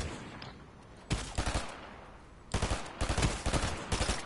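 Bursts of Fortnite gunfire ring out in rapid clusters. A short volley comes first, then after a pause come longer, louder strings of shots fired in quick succession.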